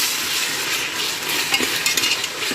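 Ginger garlic paste sautés in a pan for biryani, a steady loud sizzle with stirring scrapes and light utensil clinks toward the end, close and with no voices.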